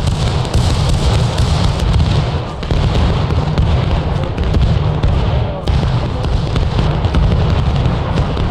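Musket volleys in a realistic Civil War battlefield video game, a dense continuous crackle of gunfire with dull booms, loud and sustained while a voice calls out over the noise.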